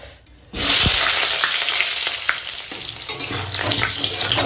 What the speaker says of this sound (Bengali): এখন না আগে আলুটাই ভেজে নেবো